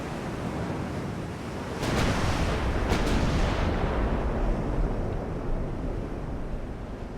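Naval shellfire from 280mm armor-piercing guns in a dreadnought-era sea battle, with two sharp booming reports about a second apart over a loud, continuous roar of sea and wind.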